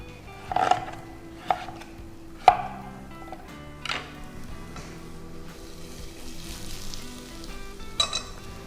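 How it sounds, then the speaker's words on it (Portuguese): Garlic, ginger and rosemary fry golden in a pan, giving a steady soft sizzle broken by a few sharp clicks and knocks of a utensil, close by with no voices. "O alho, o gengibre e o alecrim dourando"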